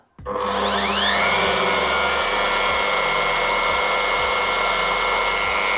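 A SKIL handheld wood router spins up from rest and runs steadily at its lowest speed setting, a loud close whine with a low rhythmic undertone, alone without talk.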